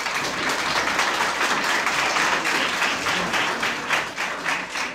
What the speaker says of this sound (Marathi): टाळ्यांचा गजराट होऊ दे.